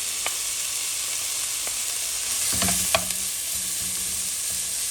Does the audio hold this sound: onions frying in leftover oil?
yes